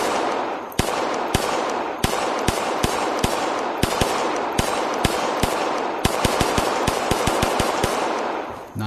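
A Shadow Systems MR920 pistol fires in a VR video game, with sharp single shots coming in quick, fairly regular succession over a steady background. No one speaks.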